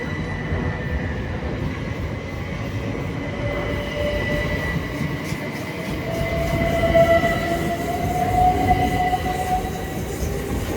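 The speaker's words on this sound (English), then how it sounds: "southern service from East Grinstead to London Victoria" A Southern Class 377 electric train bound from East Grinstead to London Victoria rolls through Clapham Junction, a close, loud rumble with rising wheel squeal and a faint clatter that swells toward the end.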